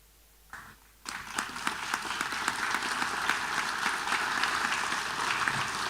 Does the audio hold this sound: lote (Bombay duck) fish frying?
no